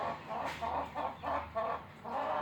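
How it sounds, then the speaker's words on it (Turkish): Indio Gigante giant-breed roosters and hens cluck close by in a series of short, rounded calls, rising and falling in quick succession over a low background hum. "Tamızlık Indio gigantelerimiz ve yarka Indio gigante yavrumuz."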